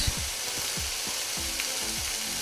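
Chopped green chili hits hot dal makhani in the pan, setting off a steady, close sizzle with a bright hiss and scattered small crackles and pops throughout.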